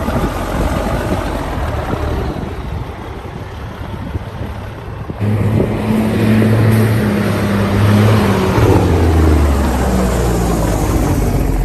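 A 1994 Peterbilt 379 truck rumbles along with a low, steady engine drone that grows louder and fuller partway through as it pulls away, no talking.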